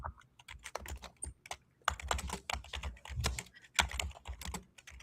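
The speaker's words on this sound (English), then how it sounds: "No, I'm typing it." Rapid typing on a computer keyboard, irregular bursts of crisp key clicks close up and fairly quiet, with no voices.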